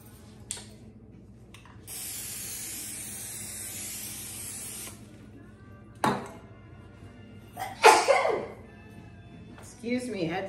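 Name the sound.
spraying cooking spray on a baking pan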